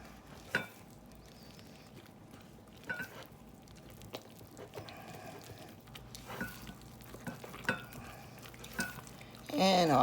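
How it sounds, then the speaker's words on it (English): Cake batter for a honey bun cake is stirred by hand in a bowl, giving soft, irregular scraping and tapping strokes that continue throughout, with a louder clatter at the end. "we're gonna give everybody a good old stir"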